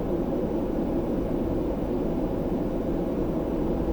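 Concorde engines at full power with afterburners engaged, in Microsoft Flight Simulator 2020, make a steady, loud, deep roar with no change in level and no voices.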